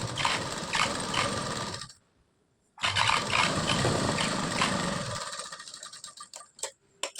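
A sewing machine stitches a narrow pant seam in two close, loud bursts of rapid mechanical whirring. A brief pause separates them, and the run ends with a few scattered clicks.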